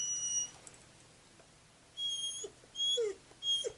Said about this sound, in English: And there's my ferocious guard dog, Boomer.